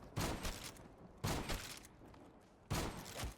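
The Argus shotgun fires three heavy booming blasts, roughly a second apart with decaying tails, in the Black Ops 3 Zombies map Nacht der Untoten, loud and close with no talking.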